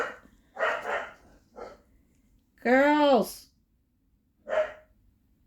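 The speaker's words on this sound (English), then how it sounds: "Sorry, they're just going to bark at them." Pet dogs bark excitedly indoors, a few separate bursts including one long, rising howl-like bark, with someone speaking between them.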